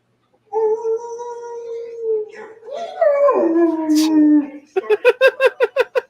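A German Shepherd howls along to the howl scene from Zootopia: long sustained howls that rise and bend, then a quick series of rhythmic yips, close and clear with no talking over it.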